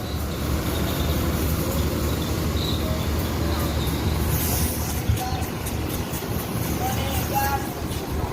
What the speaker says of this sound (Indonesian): Ini bus yang ditunggu-tunggu, bosku, berangkat dari Lubuk Basung, sudah datang